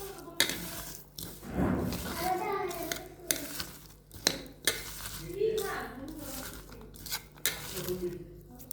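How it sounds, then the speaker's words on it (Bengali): Shrimp balachao being mixed by hand with dried chillies, salt and mustard oil, soft squelching and rubbing with occasional clinks of a bowl, faint and close, with a voice now and then. "দিয়ে হাত দিয়ে ভালোভাবে একটু মেখে নিচ্ছি।"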